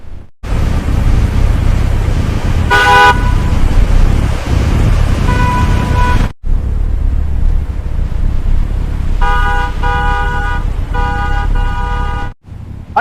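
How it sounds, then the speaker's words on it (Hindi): A car horn on an Indian road sounds in repeated honks: a short blast, a longer one, then a run of rapid beeps later on. Steady engine and road rumble runs underneath, loud and close, with no talking. "इतनी देर से हॉर्न दे रहा हूं"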